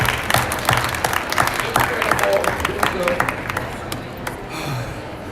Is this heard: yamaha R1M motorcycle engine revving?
no